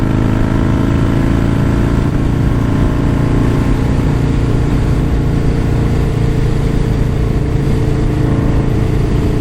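A Harley-Davidson Softail accelerating hard on an open road, giving a loud, close, continuous engine roar with heavy rumble and wind noise and no voices.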